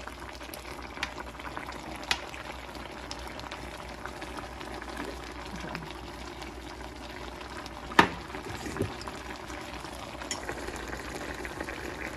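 Bangus fish with tausi simmers gently in broth in a covered pot, a faint steady bubbling with an occasional soft clink, quiet and close throughout.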